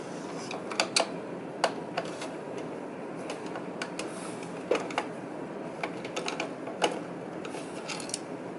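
Screws being removed to take out the print head of an Epson R1900, R2880, P400 or R2000 printer, with small metallic clicks and ratcheting ticks scattered over a steady low hum, close and fairly quiet.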